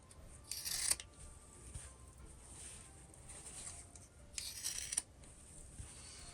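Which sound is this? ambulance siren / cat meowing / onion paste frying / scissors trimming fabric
scissors trimming fabric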